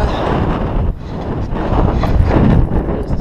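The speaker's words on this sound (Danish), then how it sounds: "Det blæser heroppe." Strong wind buffeting the microphone, a loud, rumbling roar that surges and gusts continuously without a break.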